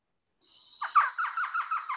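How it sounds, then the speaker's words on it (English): A whiskered screech owl gives a short, clear trill, a rapid series of evenly spaced hoots lasting under two seconds against a silent background. "Whiskered screech owl."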